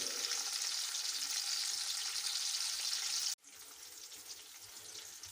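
Chopped onions sizzle and fry steadily in a pan for village-style aloo moongre, a constant close hiss that drops suddenly in level partway through and then continues more quietly.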